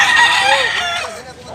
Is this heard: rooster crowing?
yes